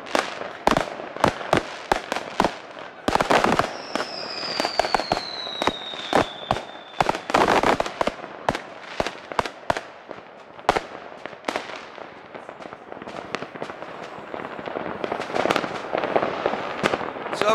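New Year's Day firecrackers and fireworks crack and pop in rapid, irregular bursts, with one whistling rocket streaking overhead. The explosions are loud and close.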